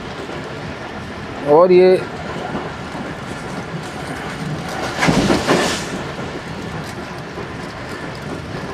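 Shalimar Express passenger train rolling along the rails between Rohri and Lahore, a steady rumbling wash of carriage and track noise throughout, with someone speaking briefly near the start.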